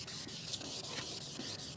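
Fine sandpaper, finer than 1000 grit, rubs over a wet, soapy plastic car headlamp lens during restoration, giving a soft, steady scrubbing hiss in short repeated strokes, close and fairly quiet.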